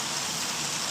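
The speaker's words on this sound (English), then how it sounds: "the rain is a little intense now" Heavy rain pours down steadily in a dense, continuous hiss of drops, loud and close without a break, with no voices over it.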